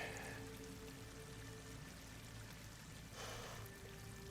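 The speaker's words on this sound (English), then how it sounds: "Water's coming in." Water pouring and trickling into an enclosed space with slick walls in a Horizon Forbidden West cutscene, a steady wash of rainy splashing and dribbling with a low hum underneath, fairly soft and continuous, briefly swelling near the end.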